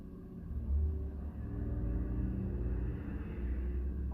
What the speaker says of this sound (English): Lots of traffic.